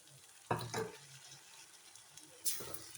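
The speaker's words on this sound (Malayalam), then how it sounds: "ഇനി അതിനകത്ത് നമുക്ക് തക്കാളി ഇടാം." Chopped tomatoes dropped into a pan of softened, sizzling onions, two brief bursts of clatter and stirring over a faint background sizzle, close and moderately quiet.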